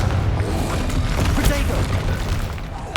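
A Confringo spell explodes in the Hogwarts Legacy video game with a deep boom amid a busy battle rumble, a voice talking over the clamor and another burst hitting at the very end.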